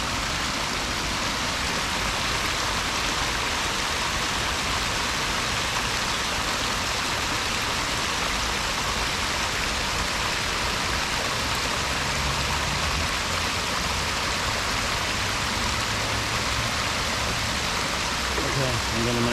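Water rushing in a stream at the bottom of a botanical garden, a loud, steady, broadband wash that continues unbroken throughout, with no voices heard.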